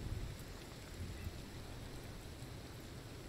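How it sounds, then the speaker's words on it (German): Steady rain in the forest of Sons of the Forest, a faint, even hiss of falling drops with a low rumble underneath and no talk. "Vielleicht hört es ja irgendwann mal auf zu regnen."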